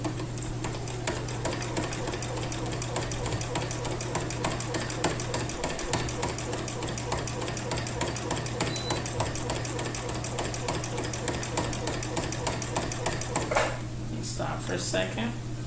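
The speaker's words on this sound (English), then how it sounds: "I'll be pushing the fabric through the machine" A sewing machine stitches fabric in the ditch of a quilt with a steady, fast rhythmic hum and clatter, running continuously until a brief stop and some handling noise near the end.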